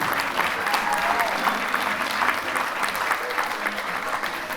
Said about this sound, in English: what a round of applause for all the kids in the wedding party